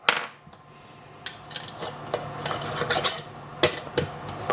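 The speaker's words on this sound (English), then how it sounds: "put the screw lid on" Metal screw band clinks and rasps as it is set and turned onto a glass canning jar of beets, a series of short scraping clicks and taps close by.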